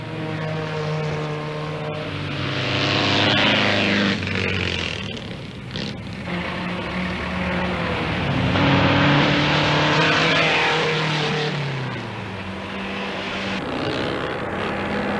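A Bugatti racing car's engine drones at the start of the German Grand Prix, not at full throttle and bogging near 120 km/h. Its pitch rises and falls in repeated swells, loud and close with no voices.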